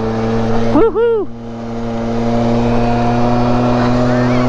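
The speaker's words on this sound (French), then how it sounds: "Le moteur il donne tout ce qu'il peut." A motorcycle engine held at full throttle gives a steady, loud drone throughout, with a quick rising and falling swoop of pitch just after the first second.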